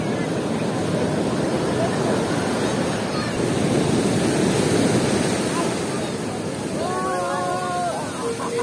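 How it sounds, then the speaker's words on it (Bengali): Big, forceful sea waves roll and break on Puri beach in a continuous wash of surf, with wind buffeting the microphone and a voice speaking faintly under the roar. "ঢেউগুলো এত বড় বড় এত বেগে আসছে"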